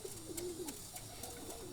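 A yellow-eyed male racing pigeon coos softly in a low, wavering series of calls, fairly faint and close, with no voices.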